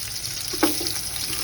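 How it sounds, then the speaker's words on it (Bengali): Onions fry lightly in hot oil for fried rice, a steady close sizzle with one brief clack of a utensil midway. "পেঁয়াজটা হালকা করে ভেজে নিলাম"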